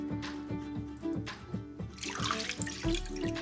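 Water being poured into a pot to make sugar syrup for semolina halwa: a soft, continuous splashing trickle at moderate level with faint background tones, no voices.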